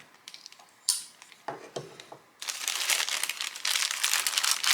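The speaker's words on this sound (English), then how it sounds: "I'm going to be careful here to just kind of cut the top so that we don't damage whatever that soft product is inside" A knife slits open the top of a subscription package. There are a few separate scrapes and taps, then a continuous crinkling of packaging that rustles close to the listener.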